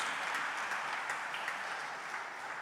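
An audience at a political assembly gives sustained applause, a dense even wash of clapping from many hands throughout.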